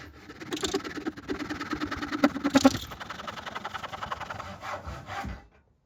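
Hand sawing an angled cut across a small oak stick, a steady run of rasping back-and-forth strokes close by for about five seconds, ending abruptly.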